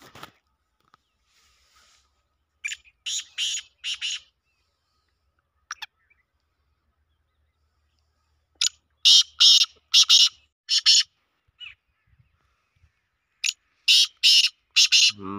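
A caged partridge (teetar) in a village calls in sharp, raspy bursts. The calls come in clustered groups separated by quiet pauses, moderately loud and without talk.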